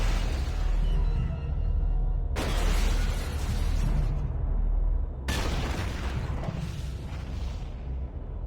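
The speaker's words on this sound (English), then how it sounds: "one by one we can watch all of our targets explode" Several targets detonate one after another in the stealth mission of the video game STAP. Loud, sustained blasts come in distinct waves, each with a sharp onset and a rumbling, crackling tail.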